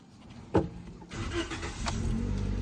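A Toyota Vios that had lost compression cranks and catches: a sharp click, then starter whirring that settles into a steady, close engine running sound.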